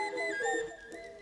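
Carved folk toy whistle (svistulka) blown at a market fair, a bright warbling tone with steady harmonics that wavers and trills, fairly loud and alone for just over a second.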